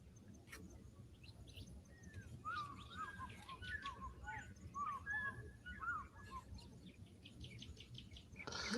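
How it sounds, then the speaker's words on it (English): Several birds chirp and sing in quick, overlapping phrases over a low, steady background hum, fairly faint and somewhat distant. "what kind of birds are that?"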